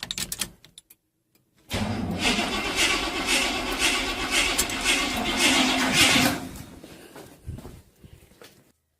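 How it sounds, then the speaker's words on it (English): A Chevy starter motor cranks with a steady, rapid mechanical whir for several seconds after a short pause, then cuts off abruptly, with faint clicks before and after. "we'll see if that fixed a cranking starter motor problem."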